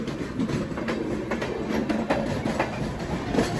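A train on the Visakhapatnam to Araku line rolls steadily along, with a continuous rumble and faint rhythmic clatter of wheels heard from inside or close by, and no voices.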